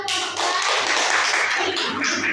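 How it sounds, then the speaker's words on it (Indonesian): Classmates clapping for group two in a school classroom, a close, busy burst of many hands clapping together with a loose, uneven rhythm throughout. "Tepuk tangan untuk kelompok dua."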